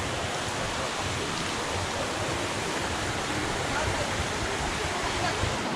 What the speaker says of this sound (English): Here's your waterfall.